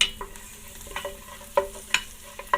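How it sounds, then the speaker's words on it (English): Jackfruit frying in a pan gets stirred with soft scrapes and a few sharper clinks of the utensil against the pan, over a low steady sizzle; close and quiet, no speech. "Give this guy a stir."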